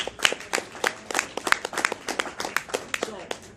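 Applause from an evening entrepreneur event audience, a smattering of individual claps rising and falling over several seconds, with some talking in the room.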